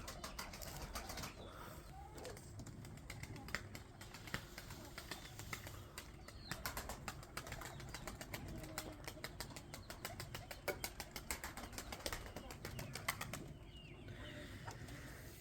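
Moulting pigeons in a loft flap their wings in repeated bursts of fluttering clatter, some close and sharp, some softer, over quiet low background noise.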